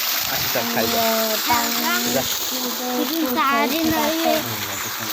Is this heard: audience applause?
no